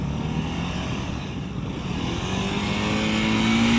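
A motorcycle engine revs high during a slow-speed riding practice session, its droning tone climbing steadily and growing louder toward the end.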